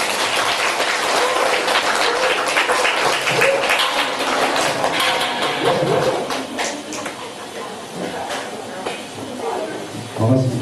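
An audience applauds at a cancer-recovery event held at a mountain care hospital in Gapyeong, a steady mass of clapping that fades somewhat near the end, with voices mixed in.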